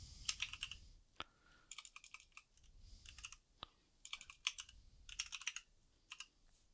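Clusters of computer keyboard keystrokes as an email address is typed, quick rhythmic bursts of clicks with brief pauses between them, faint and close with no talking.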